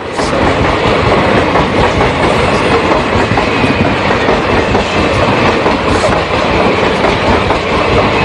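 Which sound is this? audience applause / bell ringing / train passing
train passing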